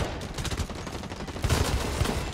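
Gunfire in the multiplayer shooter Blacklight: Retribution, a dense run of overlapping shots and bursts in a busy firefight, steady and moderately loud throughout with a heavier cluster of reports toward the end.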